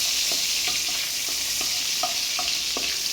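Steady sizzling of ginger sautéing in butter in a pan, with soft scraping stirs at irregular intervals and no voices.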